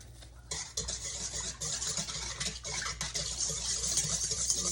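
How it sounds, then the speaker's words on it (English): A whisk stirs an instant yeast mixture in a bowl for bread rolls, a quick continuous scraping and swishing close by with steady rhythm and no talk. "Going to give that a quick little whisk."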